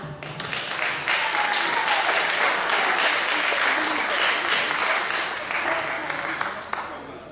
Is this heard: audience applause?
yes